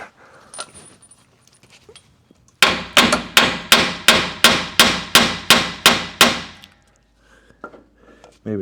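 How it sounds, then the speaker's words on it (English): A hammer strikes a stuck bolt on a 2006 Chevrolet Colorado rear differential about a dozen times in a steady rhythm, each blow sharp and ringing, loud and close. "Let's hit it a little bit with the hammer."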